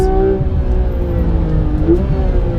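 Porsche 991 GT3 RS flat-six engine revving under steady load, a loud continuous droning hum with a pitch that rises and dips slightly, heard from inside the car.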